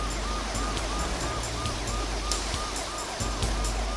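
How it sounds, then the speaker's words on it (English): Sirens wail repeatedly in rising and falling sweeps over a steady roar of heavy rain, filling the scene with constant noise. "And then, sirens."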